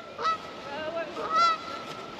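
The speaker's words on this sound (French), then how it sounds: "les piafs là, les oies là, je sais pas ce qui c'est, des oies, des canards, mais elles sont vachement énervées." Agitated geese honking near a waterside spot during a pike fishing trip, two or three short nasal honks in quick succession, moderately loud in the open air with no one talking.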